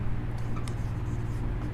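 Pen or chalk writing by hand during a maths lesson on quadrilaterals, a short scratchy stroke or two over a steady low room hum, close and fairly quiet, with no voices.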